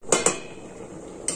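Metal lid set onto a cooking pot of lentil dal with gourd: two quick clinks close together, a brief ringing pause, then a third clink, all close and fairly loud.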